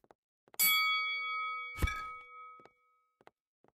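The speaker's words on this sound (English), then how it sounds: "Let's just ring the bell." A bell is struck to open a casino in the management game Casino Tycoon, a bright metallic ding with a long ringing tail, hit a second time mid-ring, amid quiet interface clicks.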